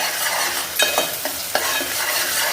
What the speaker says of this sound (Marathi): इथे वाटण छान भाजून घ्यायचं आहे.